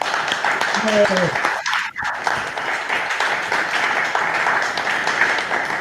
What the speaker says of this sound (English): Everybody, big round of applause for Rick.